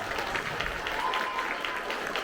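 A school audience applauds for eighth-grade honor roll students, a soft, even patter of many hands clapping continuously at a moderate distance.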